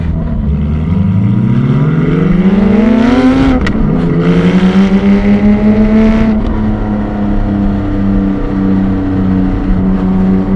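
A Porsche 718 GTS 4.0 engine pulls hard while driving, heard from inside the car: a loud, rising howl through the revs, a brief dip at a gearshift, then a steady, resonant drone.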